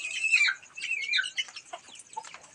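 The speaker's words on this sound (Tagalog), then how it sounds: "Yung manok na maliit." A small broody hen starting to sit on eggs clucks and trills close up, a busy run of short, soft, irregular calls in a quiet coop with no talking.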